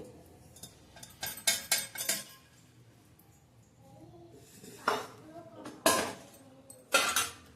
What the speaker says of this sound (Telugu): మనం బటర్ వేసిన బౌల్లోనే గరిటెలు అవి పెట్టుకుంటామండి బాక్స్లో, ఎక్కువ గిన్నెలు అవ్వకుండా.